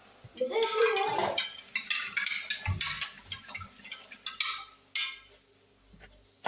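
Homemade lemon juice is stirred in a container, with a spoon clinking and scraping against the sides in irregular, close taps and rattles, and brief voices in between.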